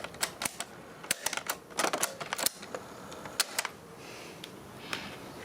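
A cassette tape loaded into a Mixxtape cassette player, heard as a quick run of close plastic clicks and clacks, then fainter clicks as the tape settles, with no speech.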